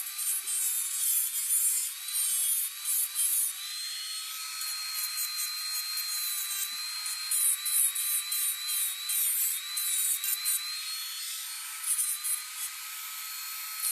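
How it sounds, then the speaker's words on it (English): A high-speed rotary tool files small grooves into star-shaped metal earrings, producing a thin, continuous close whine with a gritty rasp that pulses in short strokes, and no voices. "This makes short work of filing."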